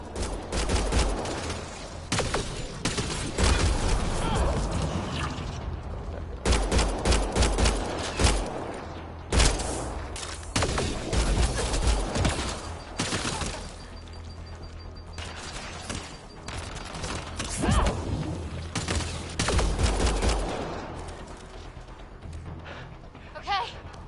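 A sustained firefight in the video game Mass Effect Andromeda, with dense bursts of gunfire and rapid shots that pause only briefly before resuming, under occasional shouted voices.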